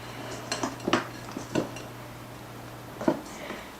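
Spatula folding flour into whipped egg whites in a bowl, soft intermittent scrapes and light clinks against the bowl in a slow irregular rhythm.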